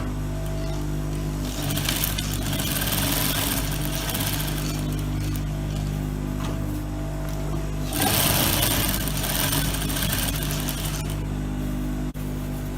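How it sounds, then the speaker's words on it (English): A sewing machine stitches down the notching on a pair of boys' knickers, running steadily and loudly with a continuous mechanical whir that surges in intensity a couple of times, with no voices. "So I'm going to start sewing the notching down."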